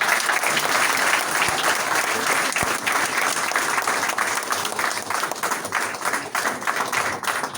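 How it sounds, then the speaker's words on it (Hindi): A crowd at a gathering of SC, ST and OBC employees breaks into loud, sustained applause, dense and continuous clapping filling the whole stretch. "अरे ताली जोरदार बजाओ सब।"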